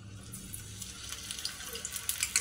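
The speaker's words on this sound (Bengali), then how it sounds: "এইবার আমি আস্তে আস্তে এর মধ্যে ছেড়ে দেবো তেলের মধ্যে। তেল গরম হয়ে গেছে" Badam dough drops into hot oil and fries, giving a soft, continuous sizzle and crackle close by that grows slightly busier toward the end.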